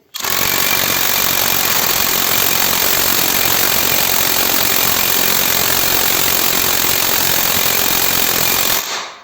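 A SHARKPRO THOR 1500 cordless impact wrench tightening a bolt, a loud, close, continuous rattling hammer sound that starts abruptly, holds steady for about eight seconds, then cuts off.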